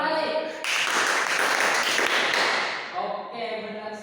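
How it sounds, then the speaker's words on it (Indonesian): A class of students claps in unison for a few seconds, a dense burst of hand claps loud and close, with a teacher's voice speaking before and after. "Tepuk 5 kali."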